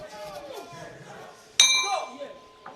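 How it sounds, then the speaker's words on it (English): A single sharp metallic clang of a boxing ring bell ends the final round at a men's world championship bout, ringing out with a short decay over quiet crowd and commentary murmur, with a faint second strike at the end. "there goes the final bell"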